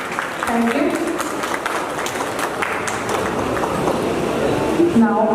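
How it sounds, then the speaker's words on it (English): An audience applauds at a school confederation ceremony in Jharkhand, a steady bed of clapping that continues under voices speaking over it. "Let's give a big hand of applause."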